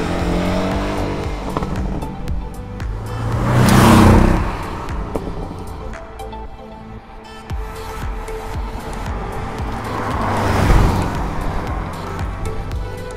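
A 2019 Porsche 718 Boxster T, mid-engined and on 20-inch wheels with lowered sport suspension, drives past twice, its engine swelling loud around each pass with tire noise between and no talking.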